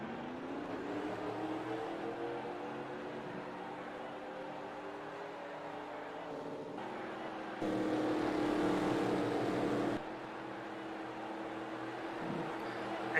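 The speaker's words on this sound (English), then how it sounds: "Engines are fired." Several race car engines firing up together at Eldora Speedway, a steady throaty drone of idling motors with rising and falling revs, growing louder around the middle before settling back; no talking.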